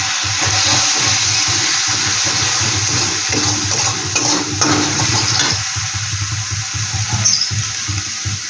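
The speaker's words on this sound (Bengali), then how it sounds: "বাটিটা ধুয়ে মশলা দেওয়া বাটিটা ধুয়ে একটু জল দিয়ে দিচ্ছি।" Water splashes into a hot pan of frying spiced masala for a chela fish curry, a loud steady hiss and sizzle with bursts of pouring and stirring throughout, no voices.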